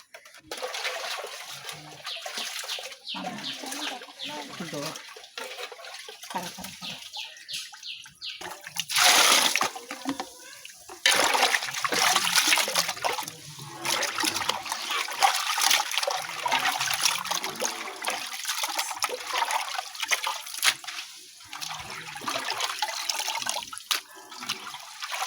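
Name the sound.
water washing raw chicken meat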